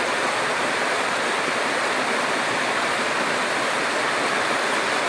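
Water rushing steadily down over stones in a rural stream, a dense, even, loud hiss and roar close by with no pauses.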